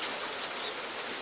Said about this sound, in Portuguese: Olha, chovendo bastante em Colatina nesta